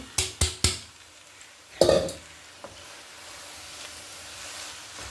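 Coriander leaf rice stirred in a pan, with three sharp metallic spoon scrapes and taps up front, then a louder clatter and a soft frying hiss underneath.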